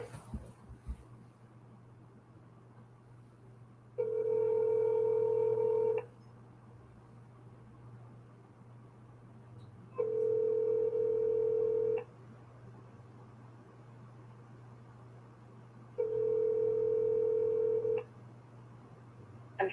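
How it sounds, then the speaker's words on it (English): A telephone ringback tone sounds during an outgoing call, three long steady tones about two seconds each, separated by roughly four-second gaps, clear over a faint background hum. "Okay, it's ringing now."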